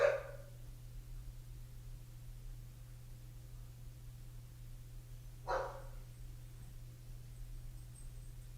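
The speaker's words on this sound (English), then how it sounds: "my neighbor's dogs are here" A neighbor's dogs give two short single barks several seconds apart. They sound fairly distant over a low steady hum, with no talking.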